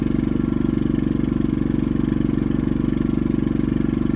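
A camper van engine fitted with a silencer idles steadily and loudly up close, a constant low, even rumble with a regular pulsing beat and no voices.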